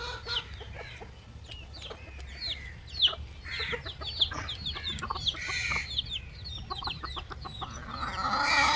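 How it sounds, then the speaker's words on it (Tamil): Chickens cluck and chatter in a sunny yard, with repeated short calls and squawks at moderate distance over soft background noise, growing busier toward the end. "அது பாருப்பா கோழி பாரு"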